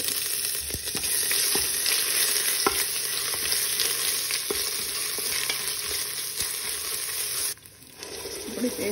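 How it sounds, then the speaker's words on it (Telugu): Ginger paste sizzles and crackles steadily in hot oil for green chicken pulao, with a spoon stirring and scraping the pan now and then, close and continuous before briefly quieting near the end. "ఈ పచ్చివాసన పోయేంత వరకు వేయించుకోవాలండి"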